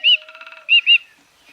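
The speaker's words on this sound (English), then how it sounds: "That's only Cheep Cheep, my little very annoying bird." Cheep Cheep, a small bird in the adventure game The Book of Unwritten Tales, gives a rapid trilling chirp, then two sharp, loud cheeps in quick succession, close and alone.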